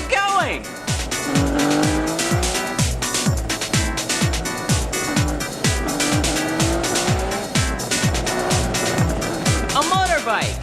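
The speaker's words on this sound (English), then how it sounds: "A motorbike!" Tires squeal again and again in a frantic anime motorbike chase, with sharp screeches and fast engine whines repeating rapidly across a dense, loud mix.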